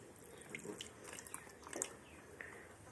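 Faint shower water runs and splashes softly while a baby plays in the bath, low and steady with no clear talk.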